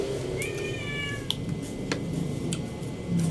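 A cat meows in a few short rising calls against a busy household background, with soft ticking and clatter around it.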